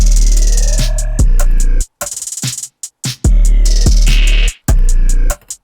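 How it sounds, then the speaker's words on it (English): A deep, booming 808 bass hits under a Halloween-style trap beat made in FL Studio, with crisp hi-hats and snares, loud and punchy, dropping out briefly in places. "I ended up picking this 808 right here, and in context it sounds like this."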